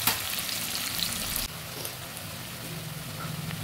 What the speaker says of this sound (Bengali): ভালো করে ভেজে নিচ্ছি।